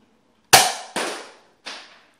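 A modded NERF Element blaster fires with sharp, close snapping taps, one strong burst followed by two quicker, fainter pops, each decaying briefly into silence.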